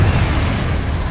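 Confringo blasting curse exploding in Hogwarts Legacy, a short loud low boom with rumbling debris, heard alone without talk.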